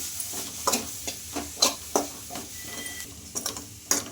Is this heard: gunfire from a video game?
no